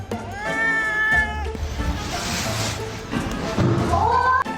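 A house cat meows repeatedly, loud and close, with drawn-out, wavering cries and a short thump partway through, with no voices over it.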